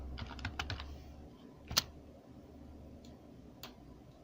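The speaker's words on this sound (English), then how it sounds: "you type localhost, then slash, type new" Keys clatter on a computer keyboard as a localhost address is entered in a browser: a quick cluster of soft taps, then a sharper keystroke and a few scattered presses, quiet and close.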